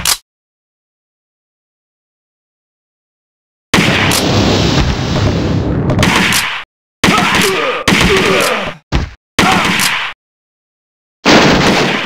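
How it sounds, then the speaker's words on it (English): Machine gun fire from the arcade shooter Virtua Cop 2 on PC, loud sustained bursts of rapid shots separated by brief silences, after a long quiet opening. "Machine gun."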